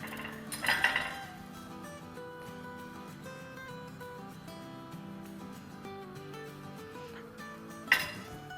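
A spoon stirs sugar into milk in a pot while making quick rabri, giving two sharp metallic clinks, one near the start and one near the end, over soft, steady background music.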